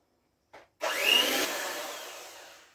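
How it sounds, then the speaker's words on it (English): Electric whisk beating cake batter ingredients together, a steady whirring buzz that starts abruptly after a brief short burst and holds at a constant level, close and alone. "I have finished whisking"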